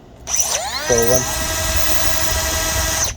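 A 3-inch cordless cut-off tool, Milwaukee M12 or DeWalt 20V Max, spins up with a rising whine and holds a steady high-pitched run for about three seconds, loud and close, with a brief low buzz as the trigger is worked.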